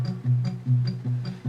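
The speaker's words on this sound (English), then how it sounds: "The first thing I recorded on this song was the guitar" Muted guitar, close-miked, with a low thumping pulse of damped plucked notes repeating in a steady rhythm; near and dry, with no voices.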